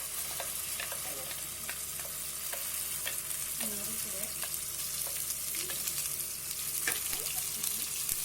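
Ground masala paste sautés in oil with a steady, close sizzle and soft crackle, broken by light stirring taps; no voices.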